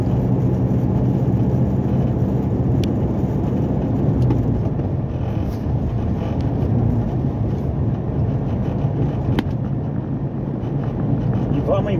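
A truck cruises down a Brazilian highway at night, a steady, loud rumble of engine and road noise with wind roar, unbroken for the whole stretch.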